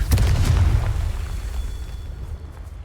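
A Confringo fire spell explodes in Hogwarts Legacy with a loud, deep booming blast that rumbles and slowly fades.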